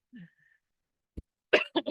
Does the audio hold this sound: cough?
yes